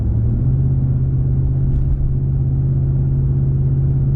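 Cabin noise inside a 2019 Ram Rebel truck driving on the road, a steady loud low engine and road rumble with no talking.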